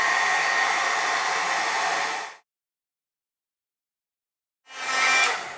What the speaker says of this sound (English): And then we'll go ahead and heat set this one.